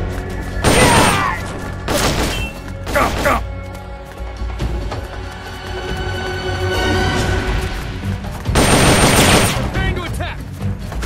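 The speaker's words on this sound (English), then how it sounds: "You hear that? Gunshots! We're under attack!" Loud bursts of gunfire in Metal Gear Solid: Peace Walker erupt in several volleys, rapid automatic shots with booming impacts, with voices talking between the bursts.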